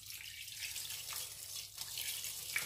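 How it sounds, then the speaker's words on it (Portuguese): Water poured into a cooking pot for São Tomé-style octopus stew, a short steady splashing trickle at close range with no talk. "Colocarei aqui a água."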